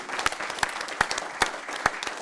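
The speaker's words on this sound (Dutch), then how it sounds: "Ik wil ook heel graag nog even een applaus hebben voor Ivo." A small audience at an evening climate discussion event in Amsterdam claps for a speaker, sparse individual claps standing out as sharp, separate hits over a thin background of applause.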